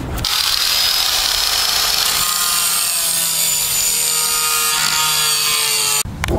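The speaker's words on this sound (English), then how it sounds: "you can see the metal is a little bit uneven here, so I'm going to grind it" Power grinder smoothing an uneven metal BMX bike part, a loud steady high-pitched grinding whine that holds for about six seconds and cuts off briefly near the end.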